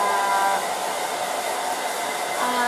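A hair dryer runs steadily at close range, a loud continuous whir and rush of air with no break for nearly three seconds and no talking over it.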